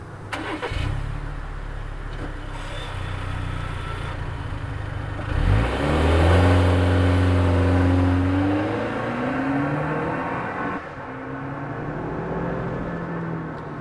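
A 2025 Toyota 4Runner Limited with a 4-cylinder turbo engine pulls away hard, its engine note swelling loudly and rising through the gears, heard close and steady with no talking.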